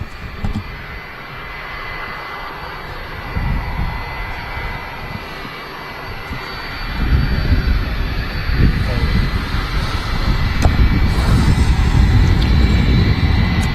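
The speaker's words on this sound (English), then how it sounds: "the Virgin Atlantic 330 crossing past the tower on the departure over there" A Virgin Atlantic A330 jet airliner departs past the tower at Manchester Airport, a broad engine roar that swells louder in the second half, heard from a distance with people talking over it.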